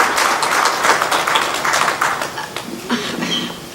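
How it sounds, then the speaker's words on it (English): Audience applause at a Sikh research summit, a dense wash of many hands clapping that holds steady for several seconds, then thins toward the end. "can we all just have a round of applause to appreciate the courage of this young woman?"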